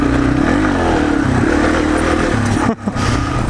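A small, light Yamaha TW200 trail motorcycle revs steadily up close on a ride, its engine note rising and wavering continuously, with a brief dip and clatter near the end before the engine picks back up.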